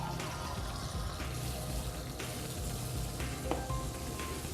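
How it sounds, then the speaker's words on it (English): Tap water running steadily into a sample glass, a continuous faint hiss and splash with a few small clinks, no voices. "First, we'll take a sample of normal tap water."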